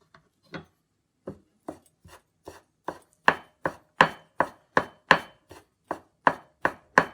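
A knife julienning thin omelette on a cutting board chops rapidly, starting with sparse strokes and speeding into a steady, crisp rhythm of close, sharp taps.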